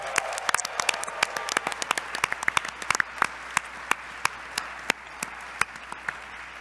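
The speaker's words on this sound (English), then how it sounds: "Give yourselves a round of applause" Scattered clapping from a modest crowd at a PAX Unplugged convention live show, sharp individual claps at first, thinning out toward the end.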